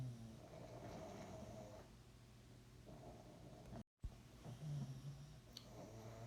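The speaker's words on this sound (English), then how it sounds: "the noise you hear in the background are my 3 pugs snoring" Three pug dogs snore in the background, a very faint, low rumbling breathing that rises and falls in slow cycles, broken by a brief dropout.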